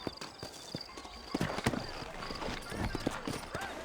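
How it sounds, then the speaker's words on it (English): Horse hooves clip-clop in the Western video game Red Dead Redemption, a quick uneven patter of hoof strikes with an occasional whinny, heard under a voice speaking. "You ain't gonna find sturdier horses than these in all of New Austin."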